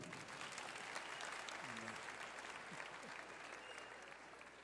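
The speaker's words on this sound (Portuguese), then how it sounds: "Mereço uma salva de palmas, sim ou não?" Soft, steady applause rises from a church congregation during an anniversary service, faint and distant, with a brief voice underneath.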